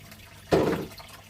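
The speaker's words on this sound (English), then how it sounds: "I've run it all over the Flower Gold Wizard Micro Sluice." Water pours through a Flower Gold Wizard micro sluice washing gold-bearing dirt with pyrite, a single brief close splash of running liquid over a quiet background.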